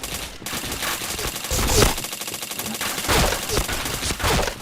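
Rapid automatic gunfire rattles in a shooting video game, in dense bursts with a couple of heavier, louder volleys, and a faint voice sits underneath.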